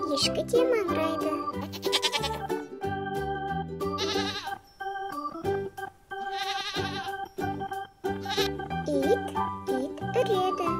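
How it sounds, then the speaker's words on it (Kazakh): Goat bleating among domestic farm animals, with repeated wavering bleats in varying pitches that are close and loud, broken by short pauses. "Ешкі де маңырайды."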